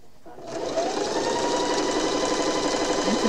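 Domestic sewing machine running steadily while stitching a quarter inch seam through quilt fabric, a continuous close whirring hum that starts after a brief quiet moment and holds evenly to the end.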